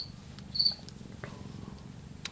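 A cat purring softly and close by, a steady low rumble that continues throughout, with a few faint higher chirps and clicks over it.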